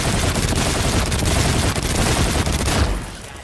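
Rapid-fire jitter-modded gunfire from Infinite Warfare, a dense unbroken stream of shots blasting loud and close for about three seconds before thinning out at the end.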